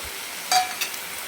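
Peanut powder going into fenugreek leaf bhaji frying in a pan, two brief close clinks of a spoon against the pan over a quiet, faint sizzle.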